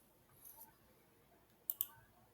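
A computer mouse clicked twice in quick succession, crisp and faint against a quiet background with light room noise, after a near-silent stretch.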